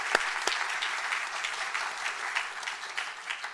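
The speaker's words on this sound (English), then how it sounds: "let's give them all a round of applause." Steady, continuous applause fills the room at a community forum introducing finalists for Tampa police chief, with a couple of sharp claps standing out at the start and the ovation holding evenly throughout.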